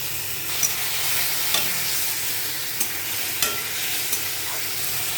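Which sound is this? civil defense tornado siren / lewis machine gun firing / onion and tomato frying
onion and tomato frying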